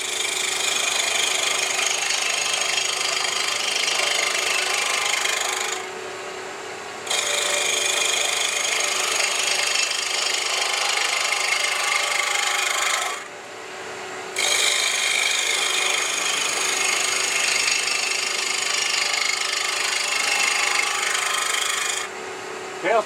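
Wood spins on a lathe while a roughing gouge cuts it, giving a steady loud hissing rasp that breaks off twice for about a second before resuming, close up with no talk.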